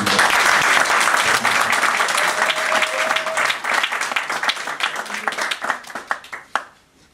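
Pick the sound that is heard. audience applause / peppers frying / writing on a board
audience applause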